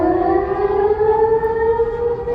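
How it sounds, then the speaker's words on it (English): Loud, continuous wailing siren with stacked tones holding steady and close, wavering slightly in level as it sounds alone without any voices. "My siren going in and out right now."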